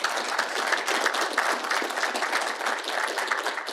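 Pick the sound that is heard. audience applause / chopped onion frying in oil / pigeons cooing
audience applause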